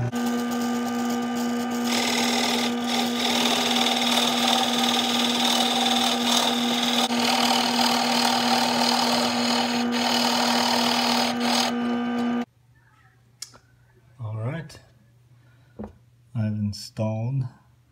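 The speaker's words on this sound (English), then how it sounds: "And now I will start drilling" A drill bores steadily into wood while a muzzleloader lock is being fitted, a loud, continuous whirring grind that runs for about twelve seconds and then cuts off, followed by brief bursts of someone talking.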